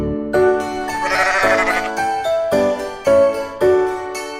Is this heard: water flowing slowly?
no